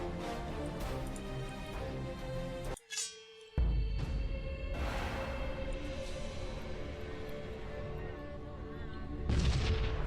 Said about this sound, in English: Firing ordnance.